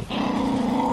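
A dog growls close by in one steady, low rumble that continues without a break across the moment, with no talking over it.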